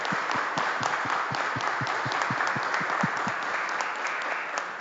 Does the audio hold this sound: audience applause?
yes